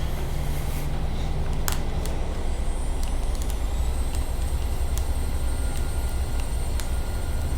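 Boeing 737-600 jet engines spooling up for takeoff in Flight Simulator 2020, a loud continuous roar with rising whine and scattered clicks, steady throughout without voices.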